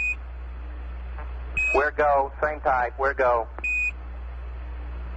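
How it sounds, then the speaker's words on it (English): Apollo 1201 program alarm recreated in Kerbal Space Program: short electronic beeps sound before and after a burst of radio-style mission talk, over a steady low hum. "Roger, 1201 alarm."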